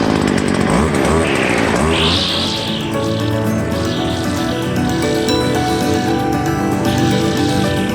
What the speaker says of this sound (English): Put me safety face on again, and the Stihl should start for first time.